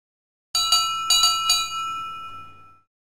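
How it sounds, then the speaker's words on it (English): A small bell for Toby the engine in a Thomas the Tank Engine video game rings in four quick clear strikes, bright and close, then rings out and fades to silence. "Kevin suggests that you put the new small bell on Toby."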